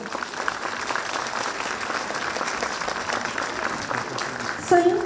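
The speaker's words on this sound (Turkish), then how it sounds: "bu güzel çiftimiz için, güzel başlangıçları için güzel bir alkış istiyorum" Sustained applause from wedding guests at a civil marriage ceremony, steady and dense throughout, with a voice briefly rising near the end.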